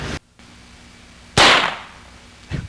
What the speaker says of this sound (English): There's our gunshot.